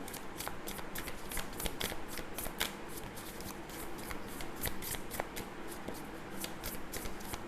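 Tarot cards shuffled and drawn from a deck, a steady run of crisp riffling flicks and slides, close and fairly quiet, continuing without pause throughout.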